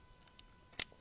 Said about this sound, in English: All you gotta do is push the legs in here